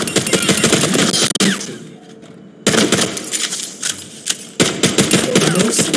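Rapid automatic weapon fire in Overwatch 2 aimed at training bots: loud, dense rattling bursts with short pauses between them, close and punchy with a mechanical clatter.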